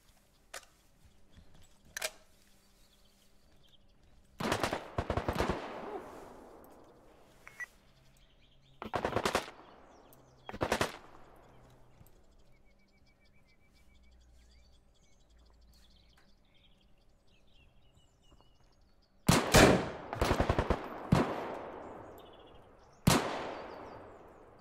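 Gunfire in the online shooter game Deadside, sharp shots in single cracks and quick bursts with ringing tails, spread across the stretch with quiet gaps between.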